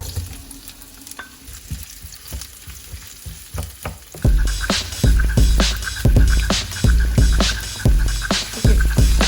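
Onion dropped into a hot pan for chicken fajitas, quiet background at first, then a loud burst of sizzling with repeated stirring scrapes in an uneven rhythm, close by and with no voices.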